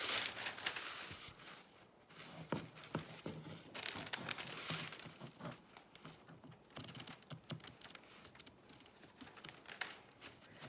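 Scissors cutting paper for decoupage on a vintage suitcase, a quiet close series of irregular snips and crinkling paper rustles, with no speech.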